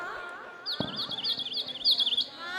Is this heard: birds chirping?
yes